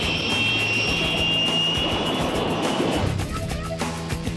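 HondaJet business jet engine running with a steady roar and high whine, a jet rumble that shifts and eases slightly toward the end, heard under a voice speaking.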